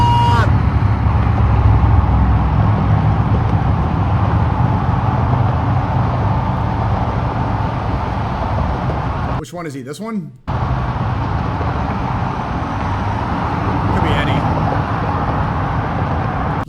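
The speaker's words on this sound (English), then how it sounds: "Look how much traffic everybody's facing just so that this war criminal can go drive through" Continuous road traffic in Washington, D.C., a dense steady roar of passing cars and heavier vehicles, with people talking over it and a brief dropout partway through.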